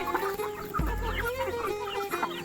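Aseel chickens on a farm cluck busily as they run in to be fed, a close, overlapping chorus with one sharp thump partway through.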